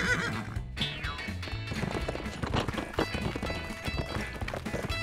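Horse hooves clip-clop steadily as a horse is ridden around a riding ring in an animated children's cartoon, a continuous rhythmic patter mixed with a whinny and background music.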